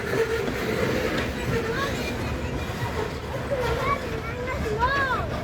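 A long Norfolk Southern freight train rolls slowly past a pedestrian path crossing in a metropark, giving a steady close rumble with high wheel squeals rising near the end, while faint voices murmur underneath.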